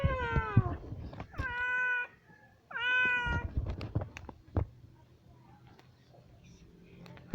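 Three drawn-out cat meows close by, followed by faint rustling and background noise.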